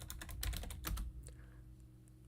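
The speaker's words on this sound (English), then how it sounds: "I'm going to type in root and then the password" Rapid keystrokes on a computer keyboard as a login name and password are entered on a lab jump box, a dense burst of clicks for about a second, then a few scattered taps fading into quiet room hum.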